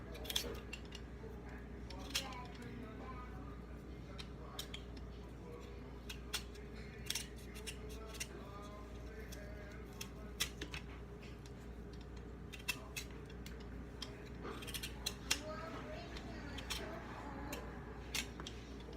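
A hand peeler scrapes over potatoes being peeled for hash browns, sounding as repeated short scratchy strokes over a low steady hum, with occasional quiet voices.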